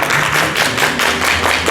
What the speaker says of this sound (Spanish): un aplauso para Lupita.